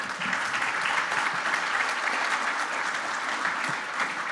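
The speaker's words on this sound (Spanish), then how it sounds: "para quien pido un fuerte aplauso, por favor." Audience applause at a private-sector business congress on security, a sustained even roar of many hands clapping at moderate distance, alone with no talk over it.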